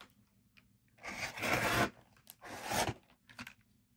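Rotary cutter slicing through quilting fabric along a ruler for a reversible table runner, two firm crisp cutting strokes close by, with soft rustling between and no talk.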